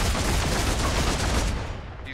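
Dense, continuous gunfire from the Deathwatch Tyranid Invasion video game, a loud sustained fusillade of rapid shots that thins out near the end, with no speech.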